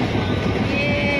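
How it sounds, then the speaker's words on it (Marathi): A fast-moving train rumbles steadily up close, its loud continuous roar punctuated by a thin high whine. "गाईज, ट्रेन फास्ट झाली"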